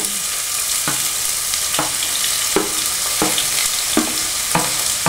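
Two chopped onions sizzle in hot oil for a Kerala-style egg roast, a loud steady frying hiss broken by about six scraping stirs of the spoon, close and without talk.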